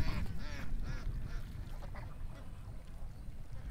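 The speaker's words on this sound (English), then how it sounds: "I see 3 geese up in the yard" Three geese out in a yard on a morning, giving a few nasal honking calls early on before fading into quieter background noise.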